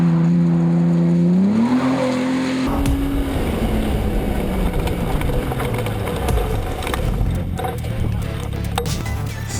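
A modified race car on a track pulls hard with its engine rising, then shifts into rough, gritty tire noise and skidding as it corners fast, heard from inside the car.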